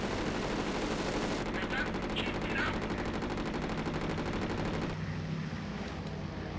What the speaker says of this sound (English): Guess those must be the cannons.